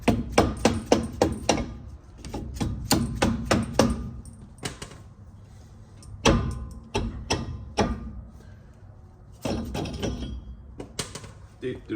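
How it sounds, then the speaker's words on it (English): A hammer strikes the front brake assembly of a Ram 3500 dually truck in rapid bursts of loud, close metallic whacks, separated by brief pauses. "give her a couple whacks"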